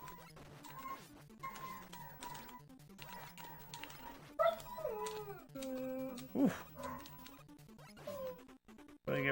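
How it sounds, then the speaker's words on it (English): Pet dogs at home whimper and yip, with rising howl-like tones building through the middle, close and moderately loud amid scattered household noise; a person briefly grunts once. "The youngest, or the older one will start howling here soon."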